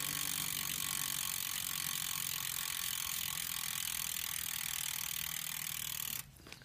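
A bicycle rear hub freewheels with the brake out of action, giving off a steady, fast ratcheting tick under road and wind noise, which cuts out abruptly near the end.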